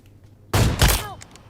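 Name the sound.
gunfire in a shooter video game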